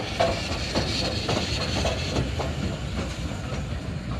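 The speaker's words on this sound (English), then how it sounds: "There's the train coming in, but with no carriages." A locomotive running without carriages rumbles past nearby with a steady roar and rhythmic clickety-clack from the rails, no voices heard.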